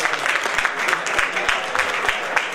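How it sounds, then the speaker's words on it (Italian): Audience applause welcoming local producers, a mill, a pastry shop and a farm business, at an autumn food festival in Lauria; steady dense clapping with a few sharper claps, fairly close, with faint voices underneath. "le accogliamo con un applauso"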